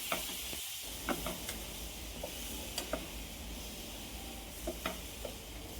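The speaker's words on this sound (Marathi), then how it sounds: "तर अशा प्रकारे शेंगदाण्याचं कूट टाकून घेतले आहे आणि छान असं मिक्स करून घ्यायचं आहे" Tomato chutney mixed with roasted peanut powder being stirred in a pan, a steady soft sizzle with scattered scraping clicks of the spoon, close and without talk.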